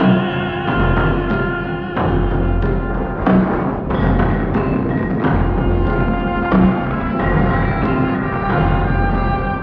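Orchestral film score for the 1963 Japanese science-fiction film Atragon, full and loud throughout with dense sustained strings and brass, rhythmic accents and swelling chords, no voices.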